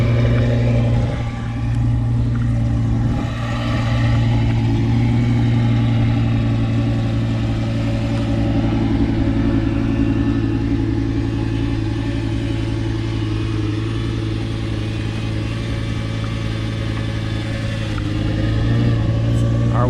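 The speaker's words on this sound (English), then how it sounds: "we're gonna go for a little cruise in the Lambo" Lamborghini cruising with a steady mid-pitched engine drone throughout, people talking over the continuous road and engine noise inside the car.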